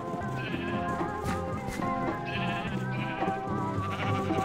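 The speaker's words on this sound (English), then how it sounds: "Get away from here, you sheep!" Sheep in the Minecraft video game bleat in repeated short calls over a busy, constant game soundscape, with several overlapping bleats spread across a few seconds.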